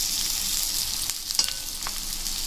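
Stuffed okra (bharli bhendi) frying uncovered over a low gas flame, a soft continuous sizzle and crackle up close with a few faint clicks, no voices.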